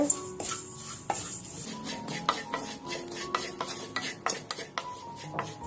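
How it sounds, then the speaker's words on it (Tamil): About half a cup of vermicelli dry roasting in a pan, stirred with a utensil: repeated close scraping strokes and light clinks against the metal, in an uneven rhythm over a faint background. "அதை நல்லா ட்ரை ரோஸ்ட் பண்ணிக்கலாம்"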